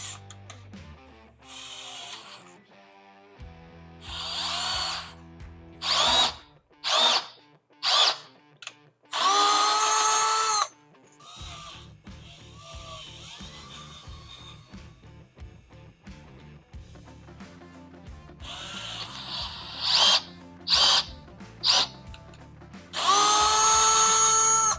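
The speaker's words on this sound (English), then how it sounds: "We're just gonna use a drill. We're gonna take it slow and hopefully not break the tap." A power drill runs in repeated short bursts, driving a tap slowly into a hole on a Jeep Cherokee XJ part during a Hack 'n Tap slip yoke eliminator kit install, each whirring spell separated by pauses and small mechanical clicks.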